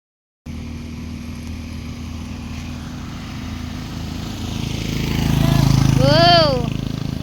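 Traffic on a road, with motorcycles and cars going by. A steady low engine rumble builds into a louder pass near the end, and a short tonal horn-like sweep rises over it.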